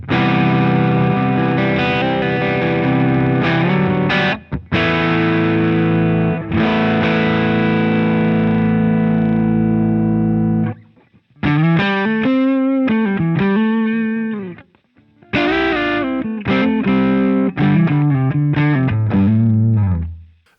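Electric guitar through a Boss BP-1 booster/preamp pedal in CE mode plays loud, sustained chords with a shimmering chorus-like colour, then a passage of rhythmic, bending notes separated by short pauses, with no voices.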